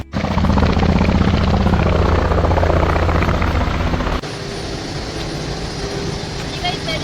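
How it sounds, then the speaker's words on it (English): A tour helicopter in the mountains near Canmore and Banff, Canada, thuds with rapid rotor beats, loud and close, then the sound drops sharply as if heard from inside, with voices over it. "First helicopter ride."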